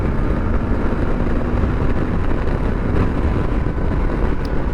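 A 2023 Suzuki V-Strom 800DE motorcycle engine drones steadily at highway speed, around 5,500 RPM at 80 miles an hour, heard close under heavy, rushing wind noise without pause.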